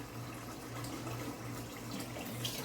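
Tap water running while rice is washed, a steady faint splashing stream with a low hum beneath, continuous and alone.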